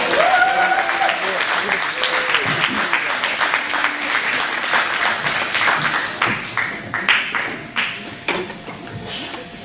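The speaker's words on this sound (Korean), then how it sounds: "큰 박수를 한번" A church congregation gives a big round of applause for a young woman from the youth group about to share her testimony; loud, dense clapping fills the room and thins toward the end.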